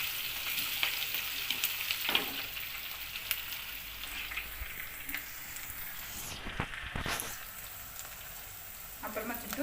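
Crushed garlic crackles steadily in hot oil while a fish curry is being made, a dense continuous sizzle with a few brief clinks and scrapes over it.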